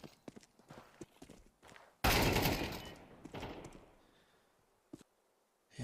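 Gunfire spamming during a Counter-Strike 2 esports cup match, scattered clicks and taps, then a loud sustained burst of shots that fades off, with faint commentary underneath.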